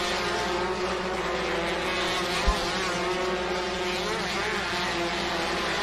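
Marcas Brasil Race cars with 1.6 engines at Interlagos circuit produce a continuous, dense engine roar, a steady droning wash of sound with no break, heard from a moderate distance.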